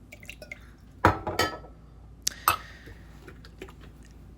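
Blue curacao is poured into a metal cocktail jigger, with a few sharp clinks of glass and metal and short liquid splashes over a quiet background.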